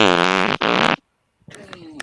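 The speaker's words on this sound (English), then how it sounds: "I got a fucking fart too" A loud, buzzing, drawn-out fart in two long bursts, heard close up, then quieter sounds and faint voices after a short silence.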